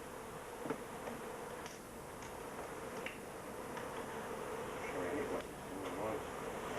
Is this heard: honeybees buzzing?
yes